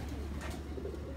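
Sialkot pigeons coo in a soft, continuous murmur close by, with no talk.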